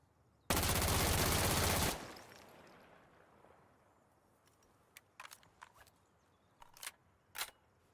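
Rifle fired with a compensator in the video game Insurgency: Sandstorm: a loud, dense burst of rapid shots lasting about a second and a half, then a decaying tail and a few scattered clicks and clacks.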